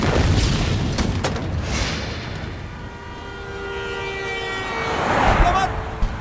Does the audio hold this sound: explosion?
yes